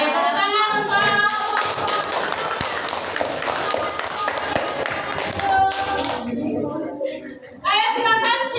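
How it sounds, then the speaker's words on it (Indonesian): A classroom of students claps for a presenting group, a dense burst of applause lasting several seconds, with children's voices and chatter around it. "Oke, tepuk tangan untuk."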